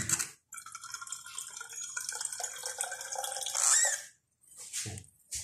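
Water pours steadily into a pan of milk for several seconds, close by, with a splashing, bubbling sound before it stops.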